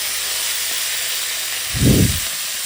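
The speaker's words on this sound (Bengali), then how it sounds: "চলো এখন মাছের তেলটাকে ভেজে নিই বেগুন দিয়ে ভাজি" Fish oil and eggplant frying in a pan give a steady broadband sizzle and hiss throughout, with a short louder burst of sputtering near the end.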